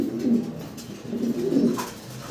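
Pigeons of a Janardan bloodline cage-bred for sale on a farm coo softly and repeatedly, close by, with a low throaty burble that swells and falls over a steady background hiss.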